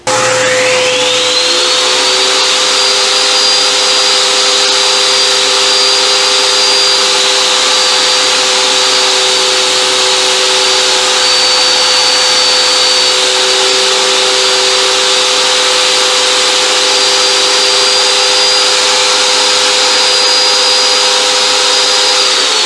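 A table saw spins up and runs loudly, cutting a notch into a sacrificial fence with its steady whine and hum holding for over twenty seconds, close and alone.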